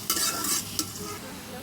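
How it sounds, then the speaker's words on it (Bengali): Onions frying in a pan on a rooftop cooking setup, a soft sizzle broken by two quick scraping stirs of a spatula, close and brief, with no speech. "আমার পেঁয়াজ ভাজিটা প্রায় হয়ে এসেছে।"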